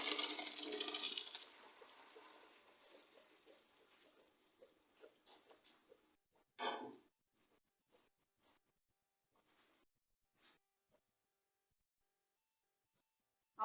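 Water from boiled macaroni poured through a strainer, a loud gushing splash that fades into scattered drips and small clatters before silence.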